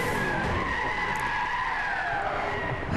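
A car in Gran Turismo 6 oversteers and skids, giving a steady, sustained tire squeal with a wavering pitch over a low engine drone, loud and continuous for a few seconds.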